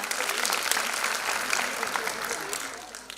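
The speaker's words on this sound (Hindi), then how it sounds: "प्लीज तालियां।" Audience applause after a Bharatanatyam dance performance at a classical dance academy's annual function, a dense, steady wash of clapping from a large crowd that holds its level for the whole stretch, with a voice faintly over it.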